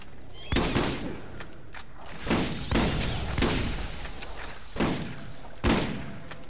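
Gunfire in the video game Borderlands, a handful of sharp, loud shots fired at uneven intervals, each with a brief booming tail, with no talking.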